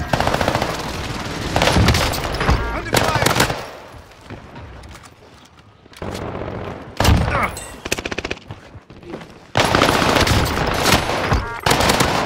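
Gunfire in the Call of Duty Rebirth Island video game: loud bursts of rapid machine-gun fire come in several long volleys separated by quieter gaps, with no speech over the shooting.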